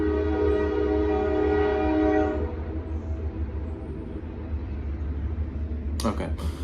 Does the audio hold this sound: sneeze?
no